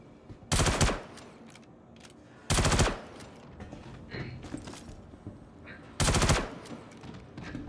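Bursts of automatic gunfire in the video game Star Citizen during a bunker mission: three loud short volleys spaced a few seconds apart, with quieter clicks and faint game sounds between them.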